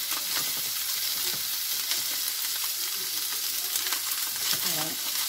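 Food cooks in a pan with a continuous bright sizzle and crackle, close and even throughout, with faint stirring scrapes underneath.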